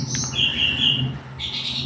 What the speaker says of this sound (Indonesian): Maaf kalau ada kendala seperti suara burung